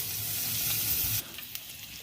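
Grated ginger hits hot oil in a pan with a loud, dense sizzle that drops quickly to a quieter crackle after about a second.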